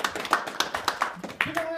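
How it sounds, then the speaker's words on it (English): A small audience at a university faculty reps conference claps briefly, with a quick run of sharp, close handclaps that fades out as a voice begins. "Okay, give a clap."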